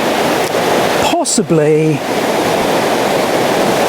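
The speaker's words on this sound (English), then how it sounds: "I've just found a little place where I can get down to the river" River water rushing and churning below the Pontcysyllte Aqueduct, a steady broadband roar close by, with someone briefly speaking over it midway.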